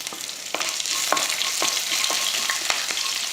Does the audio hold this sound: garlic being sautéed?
yes